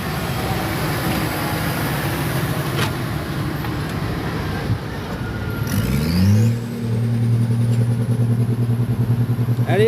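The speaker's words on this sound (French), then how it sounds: "Vous avez vu comme ça fait du vachement de bruit, comment la terre tremble face à ce gros moteur." A pulling tractor called Stormbreaker roars loudly, its big engine rumbling and clattering, then surging into a higher, sustained howl as it pulls away, with crowd noise faint underneath.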